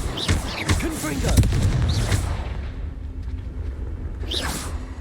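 A Confringo fire spell cast in the Hogwarts Legacy video game gives a booming, whooshing burst with crackling tails. The fiery blasts are loud and dense in the first two seconds, then fade into a quieter rumble with a brief swish near the end.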